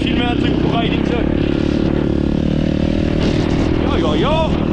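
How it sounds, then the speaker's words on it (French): A Run and Dune motorcycle climbing uphill gives a steady, close engine drone with a rising, wavering pitch throughout, while voices murmur faintly underneath. "on a repassé la moto de Run and Dune, on monte au 90s"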